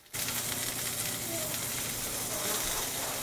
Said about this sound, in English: This cheese is going to melt because it is cooking on the stove.